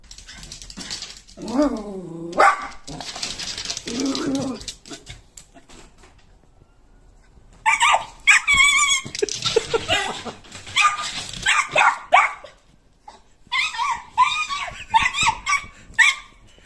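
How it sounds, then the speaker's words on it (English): A dog in a yard barks, growls and yips at a cat in agitated bursts, with gaps between flurries, loud and close. "This dog saw a cat in the yard and tried to scare it away."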